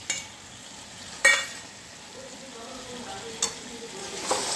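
Soaked dried fish is tipped into a frying eggplant mixture and stirred in a village-style home kitchen. A soft, steady sizzle runs underneath a few sharp scraping knocks from the stirring utensil.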